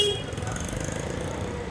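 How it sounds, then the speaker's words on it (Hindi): Dense road traffic on a narrow, jammed street in Delhi with auto rickshaws passing steadily, under a continuous loud wash of engine noise and a short horn toot near the start. "ट्रैफिक बहुत है, बहुत पतली सड़क है, लगातार ऑटो वाले आ रहे हैं, जाम भी, हॉर्न भी"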